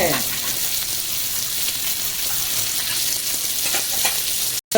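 Fish pieces frying in hot oil in a pan, a loud dense continuous sizzle close up with faint scraping as they are turned, cut off abruptly near the end, no talking.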